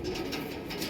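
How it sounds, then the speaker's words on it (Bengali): A Fulshira pigeon kept at a home loft coos in a short, steady low murmur, close and alone over faint background hiss. "ফুলশিরা পায়রা"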